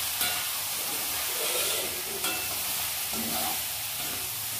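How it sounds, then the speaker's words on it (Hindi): Spices get stirred into a frying carrot and potato curry, with a close, steady sizzle and occasional scrapes of a spoon against the pan, and no speech. "अच्छे से मिला लेते हैं मसालों को।"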